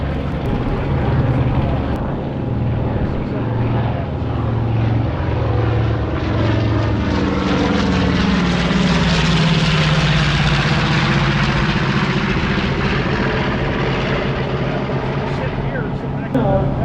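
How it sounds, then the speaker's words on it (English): A loud North American B-25J Mitchell propeller engine drones steadily overhead at an airshow, its pitch sweeping up and back down as it passes close by. "Listen to that engine."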